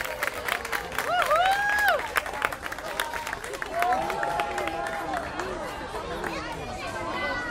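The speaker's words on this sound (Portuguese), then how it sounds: "Mais palmas que ainda estão chegando." Applause and crowd noise at a school Festa Junina as a class of students arrives, with shouts and voices rising over the clapping throughout.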